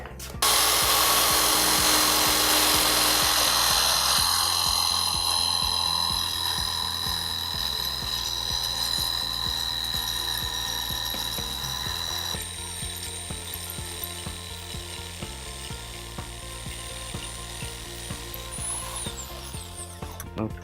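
A power tool cuts freehand through pallet wood held by two clamps on two workbenches. Its loud, steady motor whine and buzzing drone run continuously for about twenty seconds, easing slightly in level, with no voices.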